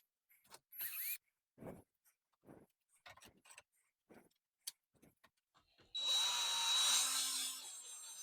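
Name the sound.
driving screws into IKEA Sniglar crib with power drill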